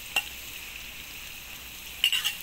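Shredded ginger, garlic and pepper go into a hot pan with dry chilies, giving a soft steady sizzle and two brief bursts of stirring and scraping.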